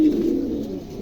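Male pigeon cooing, a low, close, rolling coo that fills the short moment on its own.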